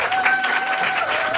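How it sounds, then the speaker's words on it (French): A short burst of audience applause greets Ludivine as she comes on stage for a live interview, moderately loud crowd clapping with a faint tonal hum running underneath. "On va vous demander un tonnerre d'applaudissements pour Ludivine."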